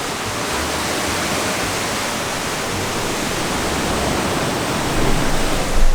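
Water at a Costa Rica jungle beach rushes in a loud, steady broadband wash that holds even throughout and swells slightly near the end, with no voices.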